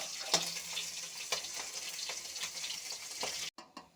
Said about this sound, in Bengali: মাছগুলো প্রথমে আমি একটু হালকা করে ভেজে নিচ্ছি।